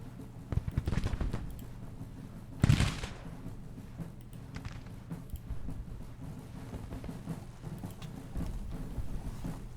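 Musket fire from skirmishers in the Civil War strategy game Grand Tactician near Oak Hill: scattered shots crackle over a steady low battlefield rumble, with one louder, closer volley bursting out near the third second.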